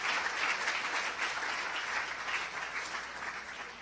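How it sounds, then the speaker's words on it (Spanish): A church congregation applauds together in a steady, dense clapping wash that fills the room for the whole stretch, with no voices rising above it. "Quisiera pedir a la iglesia que le demos un aplauso a quienes nos siguen a través de la internet"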